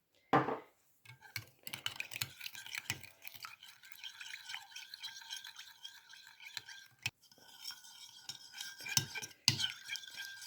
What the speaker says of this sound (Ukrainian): І все це перебалтуємо.